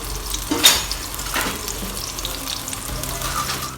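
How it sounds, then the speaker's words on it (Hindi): Onions sizzle hard in hot oil over a full flame, a steady crackling fry with a sharper burst of spattering near the start as they hit the pan, no voices over it. "फुल फ्लेम पर ही हम इसको प्याज को फ्राई करेंगे।"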